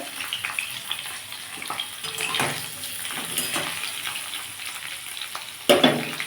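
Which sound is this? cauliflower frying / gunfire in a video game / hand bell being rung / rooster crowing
cauliflower frying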